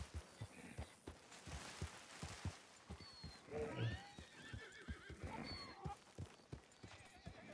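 A horse in a Wild West roleplay video game, around a horse-racing event, gives a loud whinnying neigh midway while steady clip-clopping hooves beat rhythmically throughout.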